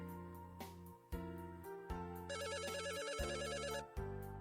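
A telephone rings in a visual novel game, an electronic ringtone with repeating warbling trills over steady synthesized background music.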